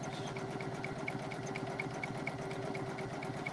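A Poolin EOC06 single-needle embroidery machine sewing a satin stitch, with a steady, fast, evenly pulsing mechanical hum and regular light ticking, heard close and alone.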